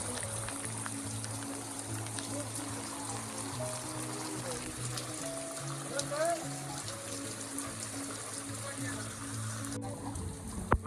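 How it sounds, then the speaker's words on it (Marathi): Torrential rain falls without pause in Konkan during the monsoon, a constant broad roar of drops with low tonal hum and murmuring in the background. "चिक्कार पाऊस पडलो"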